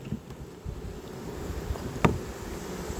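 Honey bee swarm being scooped and hived by a beekeeper, a soft continuous buzzing hum of many bees close by, with a brief sharp knock partway through.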